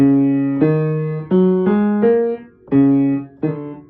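Six separate piano notes played on the black keys, one at a time at an unhurried, even pace, each ringing out clearly before the next is struck.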